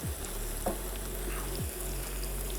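Onions frying in a pan toward golden, for a qeema payaz dish, make a continuous close sizzle, with a couple of brief scraping stirs cutting through the crackle.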